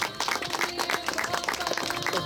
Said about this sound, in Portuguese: Um aplauso para Jesus.